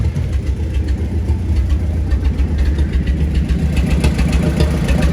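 A Husqvarna 371 XP chainsaw runs steadily at a sawmill on a cold East Tennessee evening, a loud, close, continuous engine drone with a low rumble and no pauses or changes in pace.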